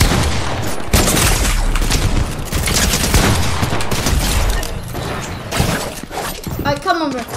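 Rapid volleys of semi-auto sniper rifle fire in the Fortnite video game, sharp, loud and close, mixed with impact and game effects, with a voice briefly heard near the end.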